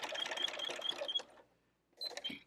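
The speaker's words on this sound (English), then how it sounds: "I'll sew over it a few stitches" Sewing machine stitching binding onto the front of a quilt, a quick run of rapid mechanical stitching, a short pause, then a brief second burst, close and fairly quiet.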